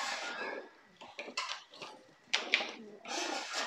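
Racing pigeons in a loft give soft, intermittent coos and rustles in short bursts with pauses, close by, mixed with light clinking sounds.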